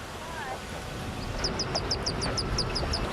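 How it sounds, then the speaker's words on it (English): High, rapid peeping chirps from a small duckling repeat in a quick series over outdoor background noise. "There's a little baby duckling under your car."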